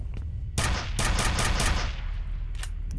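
Rapid, loud impacts from a stake-firing bolt gun in the shooter game F.E.A.R., several sharp blasts in a quick burst over a low rumble, with no talking.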